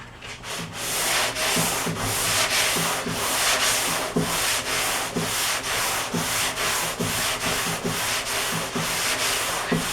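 180 grit sandpaper rubbed over primer on a filled car body panel, making loud, close, rhythmic rasping strokes back and forth in a steady repeating pattern.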